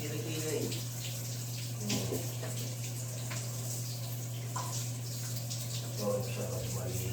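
Water splashes and pours while a stray dog is bathed, steady running water with irregular splashes close by, a person talking over it and a constant low hum underneath.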